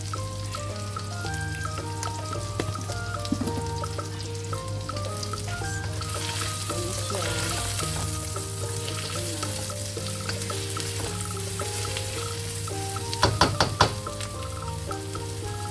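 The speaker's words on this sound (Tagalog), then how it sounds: "Malapit ng maluto ang ating beef stick with garlic." Beef sticks with garlic frying in butter in a pan, a continuous crackling sizzle with steady bubbling and a brief clatter of a utensil near the end.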